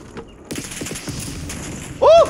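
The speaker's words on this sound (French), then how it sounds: "Grenade d'impact envoyée." Gunfire and explosions from the video game Black Ops 6 crackle in a rapid, fairly quiet burst, followed at the end by a loud, sharp impact grenade blast.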